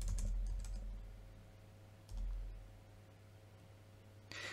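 A password typed on a computer keyboard, a few quick bursts of soft key clicks with pauses between, close and quiet over faint room hum.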